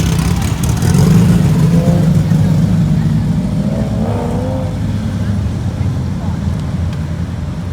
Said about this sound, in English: Oh, cool, a DeLorean